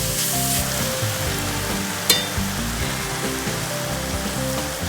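Ginger frying in a pan for a mushroom biryani, a steady loud crackling sizzle that runs without break, with one sharp tap of a utensil partway through and no talking.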